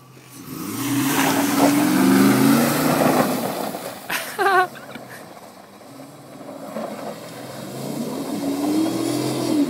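A Jeep Grand Cherokee spins a donut while mudding, its engine droning and revving loudly throughout, dipping briefly in the middle before climbing again, with a short high squeal partway through.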